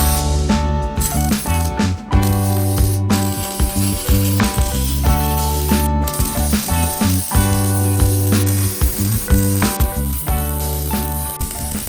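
Steady welding crackle and sizzle runs throughout as a bump stop can is tacked onto a Jeep JK mount, loud and close with an underlying electrical hum.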